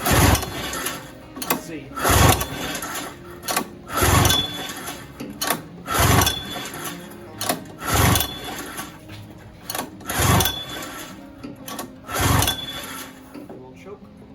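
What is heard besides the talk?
1972 Polaris Colt 294cc Fuji snowmobile engine being started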